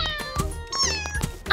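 Kittens in the game Avatar World mew in quick succession, several short, bright, close-up meows overlapping in a brief burst with no one talking.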